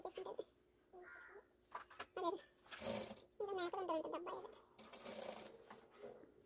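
A sewing machine stitches a narrow folded hem around a small girl's body langa dress cut from a saree blouse piece, whirring in short bursts of varying length with a voice talking between and over them.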